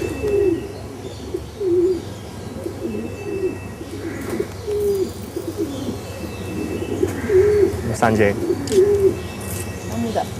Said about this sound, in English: daily ritual is to feed his pigeons